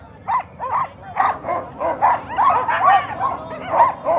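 A team of sled dogs at a race start barks and yips in rapid, overlapping bursts, loud and close, with excited whines woven through the clamor.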